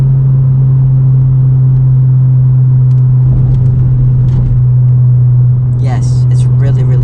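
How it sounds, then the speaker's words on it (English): A loud, steady low exhaust drone in a 2019 Honda Civic Sport with a muffler delete, in 4th gear at 4,000 RPM, constant throughout, with a voice speaking briefly over it near the end. "So yes, this car does have a lot of drone."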